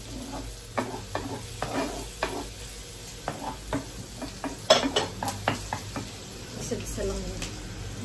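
Onion and garlic sautéing together in butter in a home kitchen: a steady sizzle broken by repeated scraping and clinking of a utensil being stirred through the pan, with soft talk in the background.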